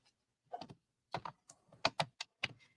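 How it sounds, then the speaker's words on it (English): Paper being trimmed for a handmade junk journal, heard as a series of short, crisp cutting strokes in quick irregular bursts, close and fairly quiet with no talking. "And then I'm going to trim at that mark that I made"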